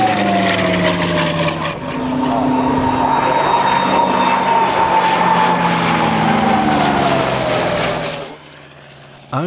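A CAC-19 Boomerang, an Australian WWII fighter built by the Commonwealth Aircraft Corporation, roars past with a loud, steady piston-engine drone and falling pitch, then cuts off abruptly near the end.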